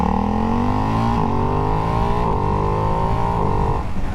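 A Ducati Hypermotard 698 motorcycle pulls away under power, its loud, close engine note climbing steadily through several gear changes, each marked by a brief dip before the pitch rises again.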